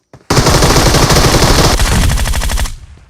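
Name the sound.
gunfire in video game PUBG Mobile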